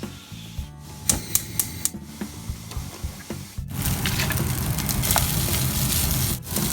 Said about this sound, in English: It's better to just fry it again instead of putting it into the microwave.